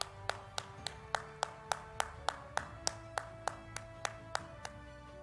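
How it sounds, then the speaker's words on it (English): Applause at a live keynote session of an innovation roadshow, heard as a single pair of hands clapping at a steady, even rhythm, about three claps per second, fairly faint and without crowd noise. "Ladies and gentlemen, big round of applause."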